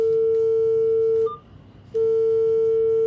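A long steady electronic tone on a phone call, as at a voicemail beep, holds for over a second, stops briefly, then resumes at the same pitch and loudness.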